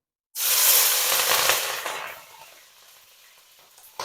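Capsicum tipped into a pan of frying onions gives a loud burst of sizzling hiss that fades after a couple of seconds into a quieter steady crackle, with a small clatter at the end.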